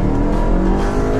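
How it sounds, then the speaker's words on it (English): A 2015 VW Golf Mk7 with a 1.8 liter turbo engine accelerating at full throttle, a loud, steady engine drone heard from inside the car. "And let's floor it."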